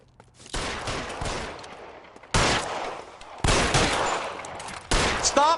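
Gunfire in the video game L.A. Noire on PS5: several loud, dense bursts of rapid shots, close and harsh, separated by short pauses.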